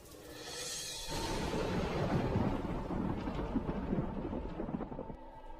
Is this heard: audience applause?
no